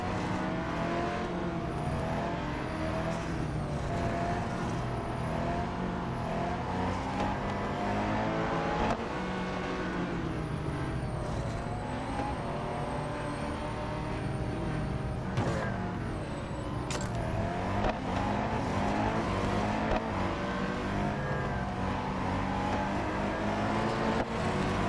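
A McLaren Artura GT4 races in the Real Racing 3 video game, its engine roaring loudly and continuously, rising and falling through gear changes.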